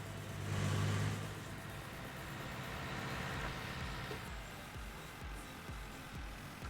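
Tractor loaded with wheat running in Farming Simulator, a faint, steady engine drone with a slight rise in revs near the start, heard alone at low level.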